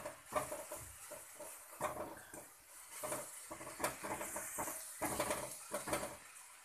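Chopped coriander being stirred into masala in a pan, with repeated scraping and clinking of a spoon against the pan at an irregular rhythm and a faint sizzle underneath.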